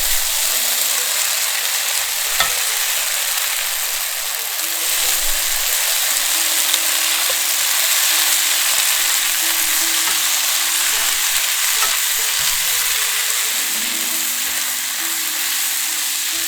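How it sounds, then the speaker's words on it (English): Bok choy and cabbage being stir-fried in hot oil give a steady, bright sizzle that holds for the whole stretch, with faint stirring noises and no talk. "Add bok choy and cabbage, stir fry until veggie are cooked."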